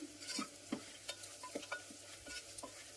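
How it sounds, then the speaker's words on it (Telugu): Quiet stirring of frying onions with turmeric, salt and chilli powder in a pan, a spoon scraping and tapping at an irregular pace over a soft, steady sizzle of frying. "పసుపు, రుచికి సరిపడా ఉప్పు, కారం వేసుకొని ఒకసారి చక్కగా కలుపుకోవాలి"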